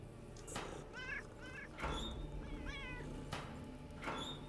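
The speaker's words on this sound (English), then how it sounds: "Oh, kittens!" Kittens in the video game Underrail let out a series of short, close meows, several in quick succession, over a soft ambient background.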